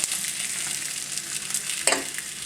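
Sucuk slices and peppers fry in grape seed oil in a pan with a steady, close hiss and crackle, broken by one brief louder clatter partway through.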